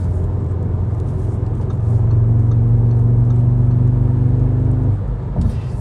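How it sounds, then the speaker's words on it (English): A 2021 Audi S3's 2-liter four-cylinder engine rumbles in a steady low drone heard from inside the cabin, swelling slightly louder partway through before easing off near the end. "From the inside, they're actually kind of trying to make it sound like a 5-cylinder. I'm getting the feeling you can hear a bit of a rumble."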